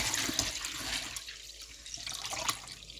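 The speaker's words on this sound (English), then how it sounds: "So go ahead and pour all of your brine in." Chicken brine poured into a container over raw chicken, a soft, continuous liquid splashing and gurgling at low level.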